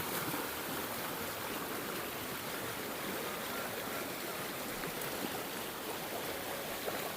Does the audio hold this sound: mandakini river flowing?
yes